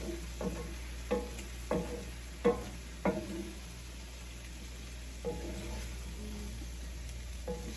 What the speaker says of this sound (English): Okay, stir that all up in.